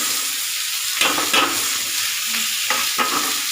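Cumin and mustard seeds hit hot oil in an iron kadai, making a loud, dense, continuous sizzle close up, with a few brief scraping stirs.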